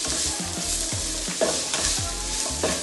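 Onions frying in oil for a restaurant-style chicken kurma, sizzling steadily while a utensil stirs them in repeated scraping strokes, close and fairly loud, with no talking.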